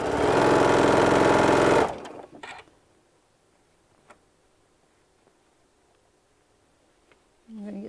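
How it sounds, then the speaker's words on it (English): A sewing machine runs steadily for about two seconds while stitching a seam on a large bean bag, then stops, leaving a quiet room with small handling clicks and a voice at the end. "Line up my edges and sew it down."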